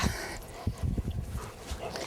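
A mixed-breed dog on a farm whimpers softly in short, uneven bursts close by, with breathy panting and low rustling underneath and no speech.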